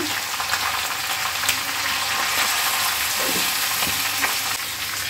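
Taro stolons tipped into a hot spice tempering with turmeric give a loud, continuous frying sizzle close by, with a few soft stirring knocks and no talking.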